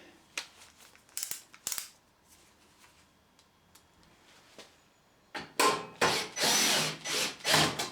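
Self-tapping screws being driven into a tumble drier, heard as scattered light scraping and clicks at first, then a run of loud, close grinding bursts in the last few seconds.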